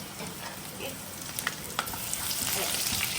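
Crushed ginger and garlic fry in a pan for a home-style Kerala dish, a steady close sizzle with a few sharp crackles and pops building slightly toward the end.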